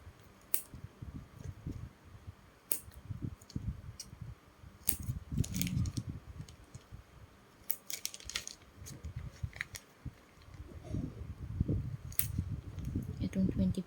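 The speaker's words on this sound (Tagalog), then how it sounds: "Kailangan maliit na gunting yung gagamitin." Small scissors snip through a colostomy bag's skin barrier, cutting it to stoma size: repeated short, crisp clicks close by, arriving in bursts with pauses, while a person talks quietly throughout.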